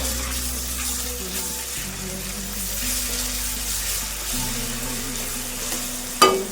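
Ginger garlic paste frying in a pan until brownish, a continuous close sizzle with soft stirring, ending in a brief louder clank.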